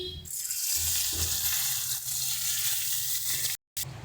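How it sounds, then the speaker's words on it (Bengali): Pomfret fish frying in hot oil in a pan, a steady close sizzle with some low clatter and stirring, and a brief dropout near the end; no one speaks. "সেম একই প্রসেসে আমরা আমাদের যে বাকি মাছগুলো আছে সেগুলোকেও এক এক করে ভেজে নিচ্ছি।"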